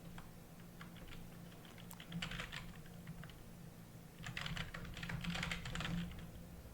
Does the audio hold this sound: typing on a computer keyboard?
yes